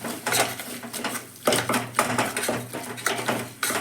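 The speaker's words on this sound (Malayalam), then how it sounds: "നന്നായി ഇളക്കി കൊടുക്കാം" Onions and potatoes are stirred with tomato, ginger and garlic paste in a pan. A spoon clatters and scrapes against the metal in quick, uneven strokes, close up and fairly loud.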